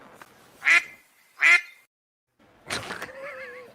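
A duck quacks in two loud, separate bursts close by, then a longer burst of mixed noise ends in a wavering, tonal squawk.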